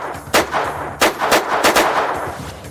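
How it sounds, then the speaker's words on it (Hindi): Gunfire aimed at a parked car outside a businessman's house in Rohini, Delhi, rings out as a rapid series of sharp, loud cracks, about six to eight shots in close succession with echoing tails and no voices. "अचानक गाड़ी पर ताबड़तोड़ गोलियां चलाने लगते हैं"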